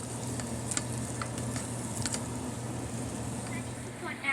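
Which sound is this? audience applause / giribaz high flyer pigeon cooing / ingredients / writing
ingredients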